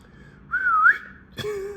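A single person whistles a short rising and falling note, then gives a brief second chirp, close and fairly clear over faint room noise.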